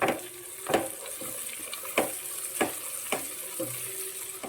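Curry leaves frying in a pan with ginger and garlic for a chicken stew, an even sizzle broken by regular scraping strokes and light taps of the stirring spoon, close up and without talk.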